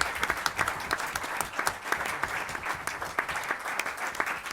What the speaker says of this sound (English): I'd request you all for a big round of applause for Satyajit.